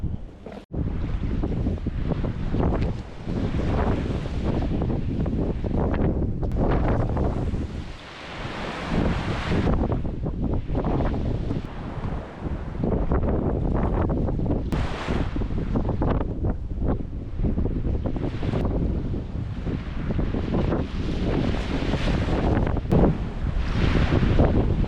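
Strong seaside wind buffets the microphone in continuous loud gusts that rise and fall, with waves audible beneath the roar and no speech.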